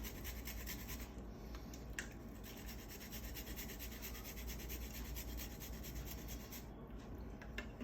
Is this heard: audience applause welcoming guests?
no